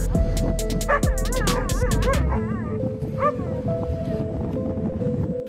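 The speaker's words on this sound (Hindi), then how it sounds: "कुत्तों को तो काम ही भौंकना होता है।" Dogs bark rapidly at a seal standing its ground, sharp repeated yaps crowded together at first, then thinning into whines and occasional yips over a steady background hum.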